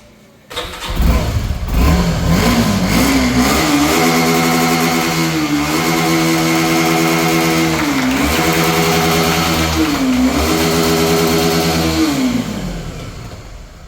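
A Suzuki Gixxer SF 250cc motorcycle engine cranks and catches, then idles loudly up close and is blipped through several throttle revs, each rising and falling back to a steady idle, with no talking.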